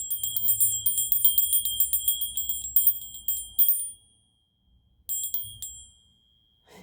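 A small bright bell, like a bicycle bell, rings in a rapid run of ding strokes for about four seconds, then a shorter burst of rings after a pause, loud and close with no talk.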